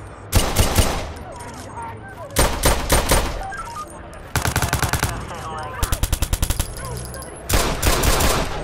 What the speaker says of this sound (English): Somebody's shooting! Please send help!